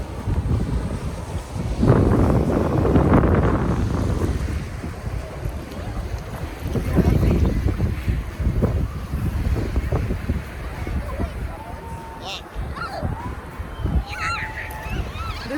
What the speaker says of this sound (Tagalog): Laki alon, parating.